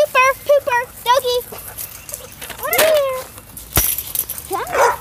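A dog whimpers and yips in quick high-pitched bursts close by, with a person talking over and between the cries.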